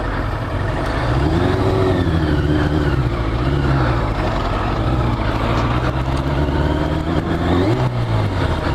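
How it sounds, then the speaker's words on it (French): A 1989 Yamaha FZR 1000 motorcycle engine runs loud and close at low revs, rising and falling in a rough rumble with uneven pops and crackles through the exhaust. "elle pétarade un petit peu à bas régime"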